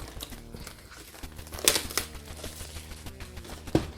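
Scissors cut through the plastic wrapping of an Innistrad Crimson Vow Magic booster box, giving soft crinkling and rustling with a few sharper snips and crackles, close and fairly quiet.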